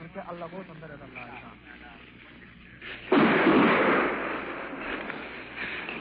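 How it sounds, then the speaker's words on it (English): Artillery shells landing and exploding: after a stretch of speech, a sudden loud, heavy blast erupts partway through and rolls on as a sustained rumbling roar that slowly eases off. "Seems like those artillery shells are landing right in the back of my neck"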